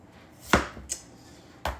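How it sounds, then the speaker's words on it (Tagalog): Knife chopping through chayote on a cutting board: three distinct, crisp chops, the first strongest and the last a sharp thud, with quiet pauses between. "Ihiwain na po natin yung sayote."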